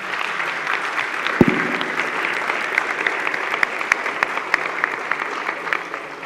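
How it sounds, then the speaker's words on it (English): Steady audience applause at a conference session, a dense patter of many hands with a few sharp individual claps standing out. It holds at an even level for several seconds, close and clear. "So a big round of applause for them."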